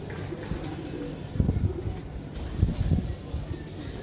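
Giribaz high-flyer racing pigeons making low, murmuring coos in short bursts over a muffled background, faint and close, with someone talking at times.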